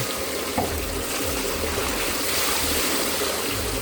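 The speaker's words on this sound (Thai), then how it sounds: "เทน้ำใส่" Water poured over freshly cooked khanom jeen rice noodles to cool them, a continuous close splashing stream with a slight bump near the start.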